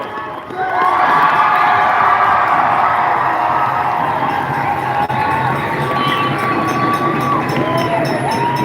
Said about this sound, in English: more round of applause for Lindsay and Ilaria